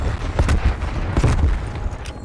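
A grenade goes off in Call of Duty Cold War amid dense game combat, with booms and gunfire bursting repeatedly over a steady low rumble.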